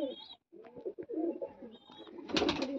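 A female pigeon coos in a series of low, throaty calls, fairly close, with a few thin, higher whistling notes between them and no voices.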